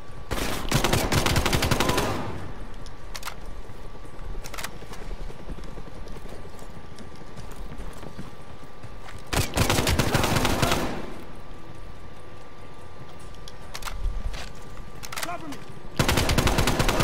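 Bursts of automatic gunfire in Call of Duty: Black Ops Cold War, loud and close, with long volleys near the start and middle, shorter shots between, and steady game ambience underneath.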